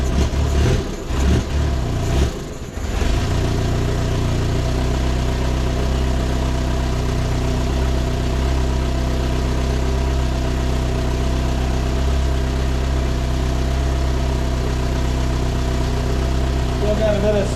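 A 1972 Fiat 850 Spider engine, just revived and still smoking from the exhaust, sputtering into life and then idling steadily with a loud, constant mechanical drone close by.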